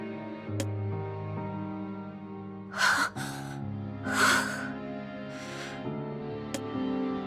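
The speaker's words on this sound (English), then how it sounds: "Her breathing remains ragged, her footing unsteady" A girl's ragged, uneven breathing in the video game NieR Reincarnation, a few sharp gasping breaths over a sustained musical drone, close and moderately loud.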